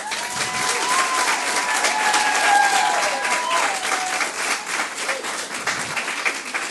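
Sustained audience applause from a community forum crowd, dense steady clapping filling the room from start to finish with a faint voice briefly rising above it.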